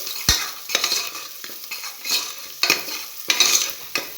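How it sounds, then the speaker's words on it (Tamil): Chopped onion sizzles in hot oil in a pan for a green peas curry, with sharp scraping stirs of a spoon at irregular intervals over a steady close frying hiss; no talking. "இந்த இடத்துல வெங்காயம் லைட்டாக கிண்டி வச்சுக்கலாம்."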